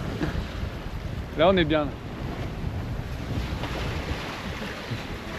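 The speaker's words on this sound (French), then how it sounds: "Le vent se lève les amis." Wind and waves at sea aboard a sailboat crossing the Atlantic from Gibraltar toward the Canary Islands, a steady broadband rush of wind noise and surf, with one brief voice speaking near the start.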